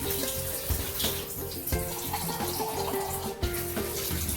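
Water runs from a tap into a glass in a continuous, close splashing trickle that lasts throughout, without talking.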